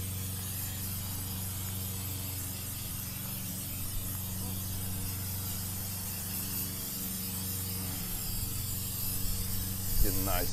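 A steady, continuous hiss of a spray paint can runs throughout over a low hum, with a few faint clicks toward the end.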